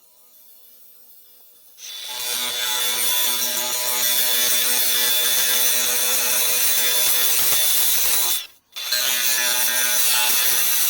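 A power saw with a dry blade cutting small backsplash tiles spins up to a loud, sustained high-pitched whine and grinding screech, briefly cuts out, then resumes at full intensity.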